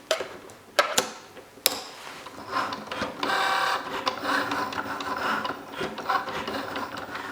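A Cricut Joy cutting machine drives its blade through card stock, giving a steady mechanical whirring and ratcheting with a few sharp clicks near the start, close and continuous with no talking.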